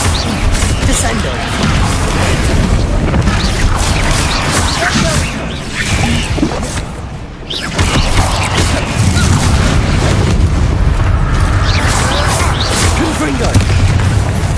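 Heavy slamming impacts and magic blasts from the Descendo spell in Hogwarts Legacy, played on hard difficulty, come as repeated booming crashes and whooshes over a dense, continuous bed of game noise, with a brief dip midway.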